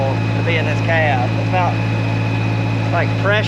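Loud, steady droning hum from a radio speaker inside a tractor cab during corn planting, with a strong constant low tone and high whine running throughout while a voice talks over it intermittently.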